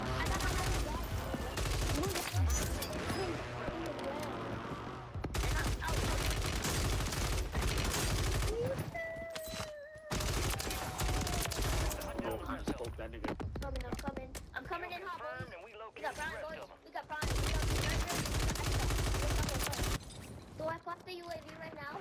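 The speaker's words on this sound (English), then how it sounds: "Hold on, someone's shooting." Gunfire in the video game Warzone 3 with a WSP 9 submachine gun, dense bursts and rapid shots running loud through most of the stretch under continuous players' talk and game sound.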